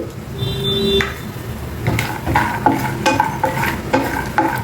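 Peanuts frying in a spoonful of oil in a kadai on low flame, with a soft steady sizzle and a series of sharp scraping stirs and clinks building over a few seconds, close up, no voices.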